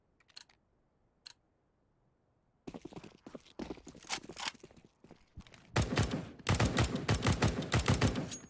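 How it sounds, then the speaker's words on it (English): Rapid gunfire sprays in a Counter-Strike match on Dust 2 during a competitive tournament qualifier: a few isolated shots first, then sustained automatic bursts growing denser and louder toward the end, with no talk. "Krieg's in for Netim, spots and sprays and takes out Big Azera."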